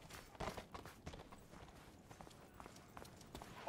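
Horse hooves clopping in the medieval combat game Mordhau, a quiet, irregular run of hoofbeats at moderate distance amid faint game ambience, with no talk over it.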